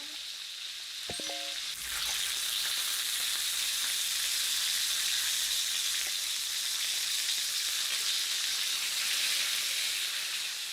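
Korean hanwoo beef steak grills in a hot pan, a loud, steady sizzle and hiss close by that swells after a brief clatter near the start, with no voices.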